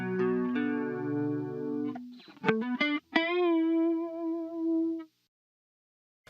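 Electric guitar through chorus and distortion effects plays sustained held notes, then a few sharp plucked hits and a long ringing note that stops abruptly, followed by near silence.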